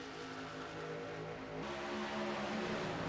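Race cars roar steadily as they accelerate on a green-flag restart, several engines layered together with a rising pitch shift partway through, loud and continuous with no talk.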